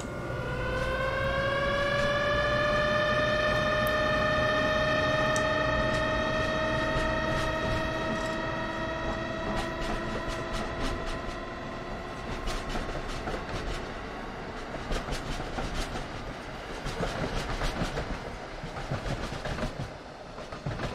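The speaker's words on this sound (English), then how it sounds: "I'm going to hop out my train and watch it go off." An electric train in Train Sim World pulls away on a snowy New Rochelle to Newark Liberty Airport route. A loud motor whine rises steadily in pitch, then gives way to rhythmic clickety-clack of wheels over rail joints.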